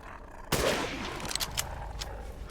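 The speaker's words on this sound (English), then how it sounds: "Didn't die to that sniper shot to the head" A single sharp, loud sniper rifle shot in the Resident Evil Village video game hits suddenly and rolls off into a rumbling tail with a few fainter cracks.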